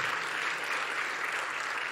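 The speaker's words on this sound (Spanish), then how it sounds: "Por favor, un aplauso para Jan." An audience at a science and ideas conference claps to welcome an economist to the stage, a steady, moderately loud bed of many hands that carries evenly for two seconds without speech.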